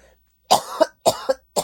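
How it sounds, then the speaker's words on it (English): Three sharp coughs from a woman with a tickle in her throat, close and loud, coming in quick bursts with short pauses between them. "sorry, I have a tickle in my throat. I'm going to cough in a second."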